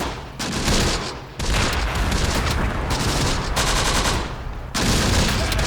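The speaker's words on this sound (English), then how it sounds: "That might be artillery actually. Here, coward. It's indirect fire, I think. Yeah, that's indirect fire." Artillery and indirect fire in the WWII strategy game Close Combat: The Bloody First, a dense, continuous barrage of gunfire and blasts with near-constant loud bursts and a few brief lulls, with no talking.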